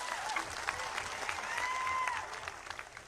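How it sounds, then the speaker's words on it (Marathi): An audience claps steadily at a political rally speech in Ishwarpur, a sustained wash of applause with a faint voice audible underneath. "त्यांच्यासाठी जोरदार टाळ्या वाजवा."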